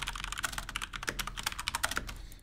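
Fast typing on a computer keyboard during a League of Legends match, a close run of crisp, quick key clicks lasting a couple of seconds.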